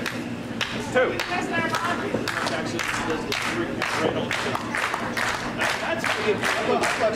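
A capacity crowd at an indoor independent wrestling show claps and cheers steadily, rhythmic bursts of applause under a commentator talking throughout.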